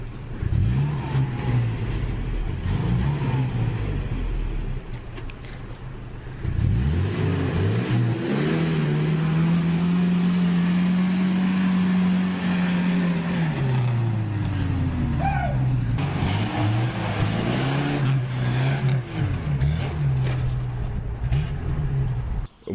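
A car engine with an idle fault runs roughly, revving and settling through uneven rises and dips, then holding a long steady drone before falling away, loud and close throughout.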